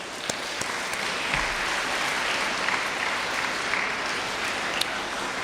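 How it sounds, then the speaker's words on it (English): An audience at a college engineering event breaks into steady applause, a thick, even wash of many clapping hands from start to end with no one talking. "How about a round of applause?"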